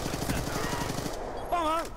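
Rapid automatic gunfire in Call of Duty: Black Ops 2, a fast, steady rattle of shots for about a second, followed by a whooshing electronic game effect.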